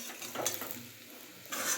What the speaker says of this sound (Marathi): आता मस्त अशी चांगली भाजून घ्यायची